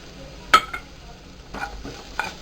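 Mashed potato stuffing with salt for aloo paratha being stirred in a pan, a few scattered spoon scrapes and taps over a soft background hiss, close and fairly quiet.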